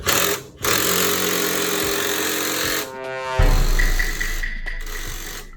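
An air impact gun or power tool drives the last coilover bolt on a BMW 435i, a loud, close, continuous mechanical rattle that briefly pauses, then returns with a rougher, buzzing tone.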